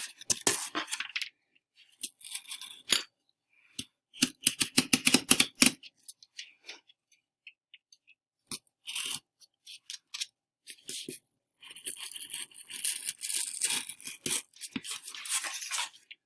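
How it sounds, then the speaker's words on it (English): A blade scores corrugated cardboard in short scratchy strokes, clustered rasping bursts with pauses, close and fairly quiet, ending in a longer run of dense scraping. "now I've scored my cardboard"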